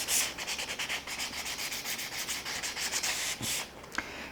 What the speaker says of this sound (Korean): 꼭 일정한 힘으로 면을 사포를 해주시는 게 중요합니다